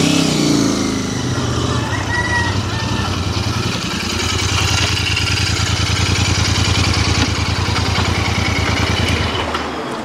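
A Royal Enfield Continental GT 650 motorcycle engine runs steadily for the whole stretch, a loud, close, even throbbing drone with a slight swell in the middle and no speech.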